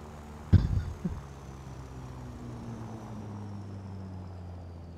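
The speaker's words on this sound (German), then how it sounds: "Flugzeug!" Aircraft engine drone in the War Thunder combat game, a steady low hum that runs through the clip after a couple of sharp impact-like bursts near the start.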